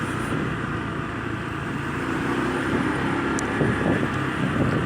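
Honda ADV 150 scooter riding through a private estate while turning left, with a constant engine drone and road and wind rumble heard up close from the rider's position, steady throughout.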